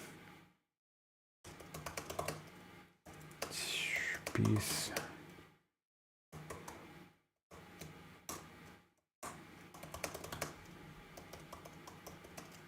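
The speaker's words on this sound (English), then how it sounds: "I'm also just gonna start typing." Quiet typing on a computer keyboard in bursts of rapid clicks, separated by short silences, with soft whispered speech mixed in.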